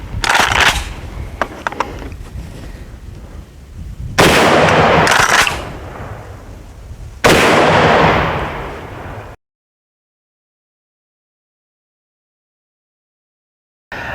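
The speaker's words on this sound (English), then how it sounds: "So we're out the range today with the Kel-Tec KSG410. We all took some shots with it." A Kel-Tec KSG410 shotgun fires at an outdoor range, with loud close blasts and echoing booms, followed by silence near the end.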